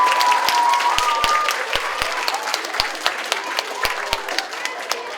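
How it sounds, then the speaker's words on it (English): Sustained applause from an audience at a DARE graduation fills the room, with dense clapping that gradually thins to scattered individual claps. "let's give Darren a big round of applause"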